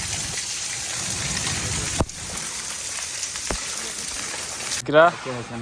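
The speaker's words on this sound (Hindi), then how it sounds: "बहुत तेज़ बारिश है।" Heavy rain pours steadily outside a mud house in a Pakistani village, a dense constant hiss with a couple of sharp knocks, before voices break in near the end.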